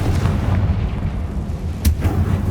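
A Confringo fire spell blasting in the Hogwarts Legacy video game, a loud booming burst with a sharp crack near the middle over dense, rumbling game background noise.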